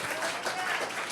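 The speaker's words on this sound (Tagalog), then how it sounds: "Isa pa nga pong malakas na palakpak sa ating buhay na Panginoon." A church congregation in Marikina gives a short burst of applause, a brief wash of many hands clapping together in a large room.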